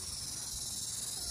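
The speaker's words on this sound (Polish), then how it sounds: "Świerszcze świerszczą." Crickets chirp steadily in a dense, continuous high buzz on a Thai island, with the insect chorus filling the background evenly and no voices over it.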